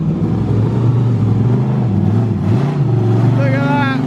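A full-blown NASCAR race car engine rumbles loud and close with a deep, steady idle that swells into revving, while people talk excitedly over it.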